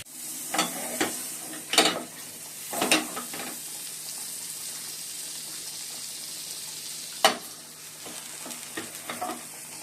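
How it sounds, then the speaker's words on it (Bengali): Sandwiches frying in butter in a pan, giving a constant, close high hiss of sizzling fat. A handful of sharp utensil clicks and scrapes break through, clustered near the start and again toward the end. "স্যান্ডউইচ সব রেডি করে নিয়েছি, এবার বাটার দিয়ে ফ্রাই করে নেবো"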